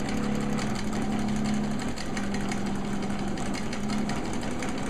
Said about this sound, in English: the pattern is being made onto the quilt as the PC Quilter moves the sewing machine